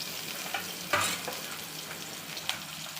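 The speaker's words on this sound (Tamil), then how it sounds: "கடுகு பொரிஞ்சிட்டு வெங்காயம் போட்டுருங்க." Mustard seeds and onion frying in hot oil for a Tamil New Year vegetarian dish, a low steady sizzle with a few sharp pops and stirring knocks near the start and one more toward the end, no talking.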